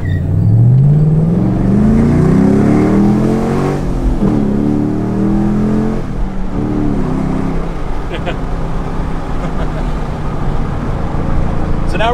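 A supercharged Camaro V8 revs and accelerates, engine note climbing steadily in pitch then settling into a loud, steady drone close by, with people talking over it.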